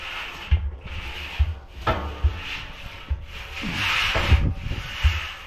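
A rag rubs down the metal of a burn barrel in close, rhythmic back-and-forth strokes. Soft scuffs and light knocks repeat about once a second, with no talk.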